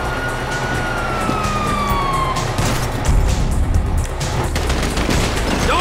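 Police sirens in Grand Theft Auto V wail steadily through a busy, loud game scene, with rapid gunfire-like bursts and traffic noise around them.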